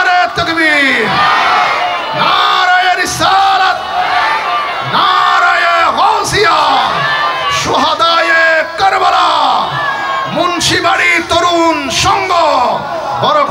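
At a Bangla waz mahfil religious gathering, a large crowd roars slogans back in unison after a leader's takbir call, loud bellowing responses repeating in a steady call-and-answer rhythm with voices overlapping.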